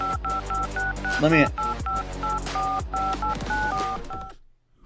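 Telephone keypad dialing tones beep in quick uneven bursts as phone lines open on a sports talk show, sitting loud over voices and sound effects before cutting to silence.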